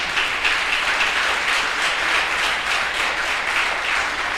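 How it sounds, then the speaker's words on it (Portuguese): Church congregation applauding steadily during a worship service, a dense, even wash of clapping that holds at a constant loud level for several seconds with no talking over it. "Você pode aplaudir o Senhor?"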